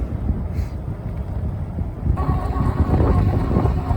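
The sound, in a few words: strong wind blowing outdoors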